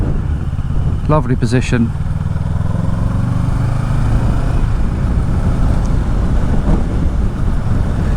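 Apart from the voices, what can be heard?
Kawasaki Ninja 650 KRT motorcycle with Akrapovic exhaust riding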